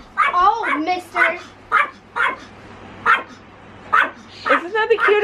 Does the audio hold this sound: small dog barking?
yes